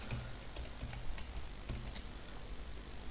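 Keys clacking on a computer keyboard as a word is typed in, a quick irregular burst of soft close taps.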